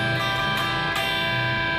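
Electric guitar strumming the two top strings in a song, a sustained bright chord with a couple of quick re-strikes, close and clear.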